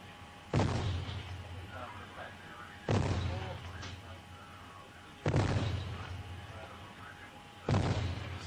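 A naval 4.5-inch gun aboard the British frigate HMS Antelope fires four heavy booming rounds at regular intervals, each sharp blast followed by a rumbling decay, with voices faintly heard between shots.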